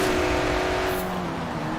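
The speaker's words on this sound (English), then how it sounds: "TVR Tuscan." A TVR Tuscan in Forza Horizon 4 revs with a steady, loud engine drone and harmonic whine, sustained close up for under two seconds with no talking.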